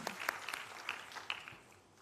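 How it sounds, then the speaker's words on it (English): An audience at a convocation ceremony applauding a dance group, scattered distinct claps over a soft clapping wash, faint and thinning out toward the end. "Can we put a beautiful round of applause to the Chandana Vikramasinghe dance group"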